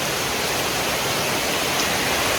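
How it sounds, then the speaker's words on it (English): Heavy rain pours down nearby as a dense, even hiss that stays loud and unbroken from start to finish, with no voices. "And like, look how hard it's raining."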